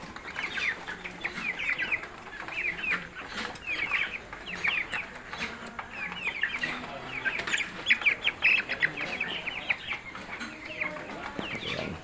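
Broiler chickens cluck steadily in a farm pen while they are fed, their many overlapping calls running through the whole stretch. Occasional wing flaps and scuffling from the birds are audible, with no one speaking.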